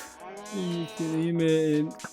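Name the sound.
cows mooing in a Minecraft-style video game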